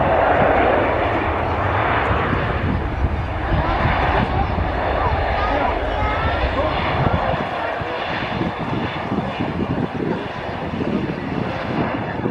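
A Mitsubishi Canadair Regional Jet 900 departing Manchester Airport, a loud, continuous jet engine roar with a broad rushing hiss that holds steady throughout at close range.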